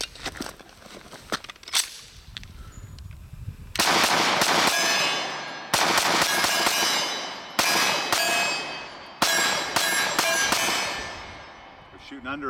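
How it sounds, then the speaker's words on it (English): A Beretta PX4 Storm Compact pistol fitted with a DPM recoil reduction system fires a string of sharp, loud shots outdoors, with several shots in quick succession, ringing echoes, and faint sounds before the shooting starts. "We're shooting under it a few times."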